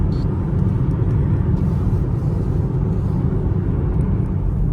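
A car drives on an icy road in Yakutia, heard as a steady, continuous low engine and road rumble that stays even throughout, with no voices.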